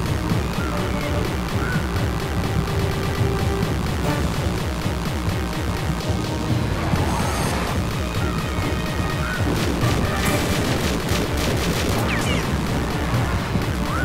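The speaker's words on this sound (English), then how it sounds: "There's going to be an explosion." Explosion during a Tomb Raider 4: The Last Revelation cutscene, a dense, loud rumbling roar with crashing debris and booming bursts sustained throughout, heard alone without talk.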